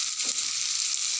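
Pumpkin and potato with nigella seed and onion sizzle steadily in hot oil, a continuous bright hiss with a faint low scrape of stirring near the start.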